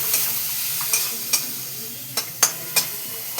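Water-soaked ground coriander and cumin sizzling into frying onions for a milk chicken curry, a steady close hiss with several sharp clacks of a spoon scraping the pan, no talk.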